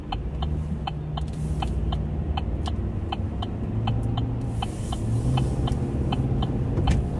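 A patrol car drives eastbound on a road. Steady engine and tire rumble fill the clip, with a regular turn-signal ticking throughout and no talking.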